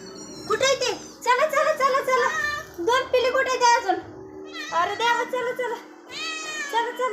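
A voice repeatedly imitates a cat's meow in several drawn-out, wavering calls separated by short pauses, close and fairly loud.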